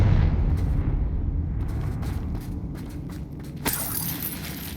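A Confringo fire spell blasts in Hogwarts Legacy: a deep, steady rumble fills the scene, and a sharper, brighter burst cracks out near the end.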